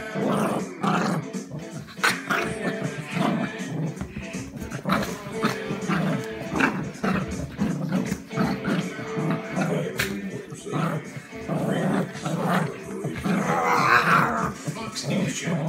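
A worked-up pet dog growls and snarls continuously at close range during rough play with its owner, deep rumbling broken by sharper yips and grunts, with a person's voice and groans mixed in throughout.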